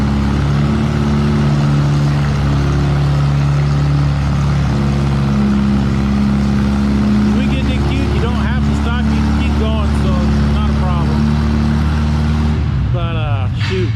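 A 3200 lb class pulling tractor at a fall nationals tractor pull drones at a loud, steady engine pitch that stays high throughout, with an announcer talking over it and shifting tones near the end.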